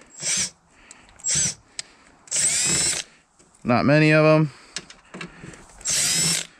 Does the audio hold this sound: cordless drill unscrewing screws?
yes